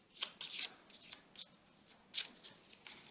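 Playing cards being shuffled by hand during a tabletop war board game, a series of soft riffling bursts and papery slaps, fairly faint and close.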